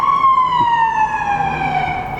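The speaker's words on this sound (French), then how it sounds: "au bruit des sirènes de police qui sont vachement fortes ou du camion de pompiers" A loud, close police or fire truck siren wails on a New York street, its tone sliding steadily downward as it passes, with traffic rumble underneath.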